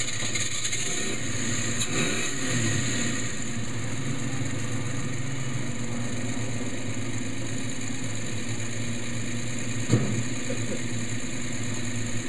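A 1961 Ford Ranchero's 170 six-cylinder engine idles steadily and close by, a continuous low rumble with a brief knock or clunk near the end, no talking.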